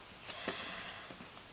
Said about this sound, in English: I just need to give this a sniff before we carry on.